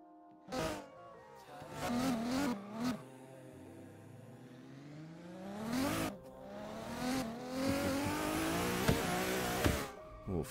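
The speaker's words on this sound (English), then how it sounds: "A little flick to angle, e-brake drag, and a nice set." A drift car revs and slides with the e-brake dragging in a racing game, engine pitch rising and falling through several sweeps with tire squeal, loud and close.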